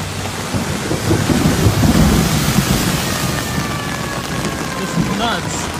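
Heavy rain pours over a flooded Staten Island street in a dense, loud hiss, while rolling thunder rumbles low underneath and a voice speaks briefly.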